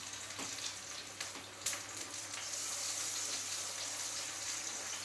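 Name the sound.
potatoes frying in butter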